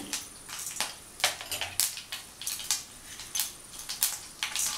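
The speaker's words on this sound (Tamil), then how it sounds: "இப்போது எண்ணெய் சூடாயிடுச்சு. இதுக்கு கடுகு கொஞ்சம் அதிகமாகவே சேர்த்துக்கலாம். கடுகு, உளுந்தம்பருப்பு," Mustard seeds and urad dal splutter in hot oil while tempering for Tamil kara kozhukattai, giving a steady run of sharp, close crackles and pops with no talking.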